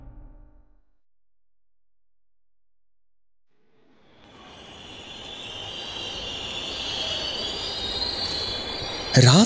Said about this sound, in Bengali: হাওড়া স্টেশনের শেষ ট্রেন ধীরে ধীরে প্ল্যাটফর্মে ঢুকছে।